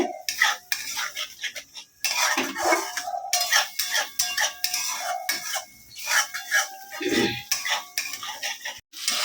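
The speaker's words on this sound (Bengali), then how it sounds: "ভালো করে কষিয়ে নেব" A metal spatula scrapes and clatters in a pan as spiced mixed vegetables are stirred and sautéed for a vegetarian mix veg dish, with repeated close, rhythmic scraping and clinking, no talk.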